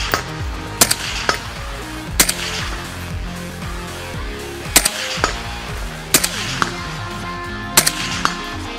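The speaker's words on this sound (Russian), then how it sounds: "Ну теперь мы посмотрим, как же эта М110 стреляет в реальной жизни." A SCAR-20 (M110) semi-automatic rifle fires for real in several single sharp shots spaced irregularly a second or more apart, each cracking loudly and ringing out briefly.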